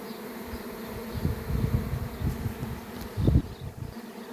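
A honeybee swarm that has returned to its hive buzzes steadily, a dense continuous hum with swelling louder passages, close by and with no voices.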